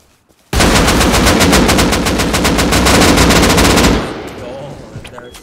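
Rapid, continuous automatic fire from a Tommy gun in the video game Rust, a loud, close burst of evenly spaced shots lasting about three and a half seconds before cutting off into quiet.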